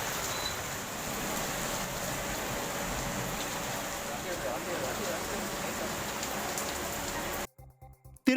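Heavy rain from a sudden thunderstorm with strong wind pours down steadily as a dense, continuous hiss, then cuts away abruptly near the end.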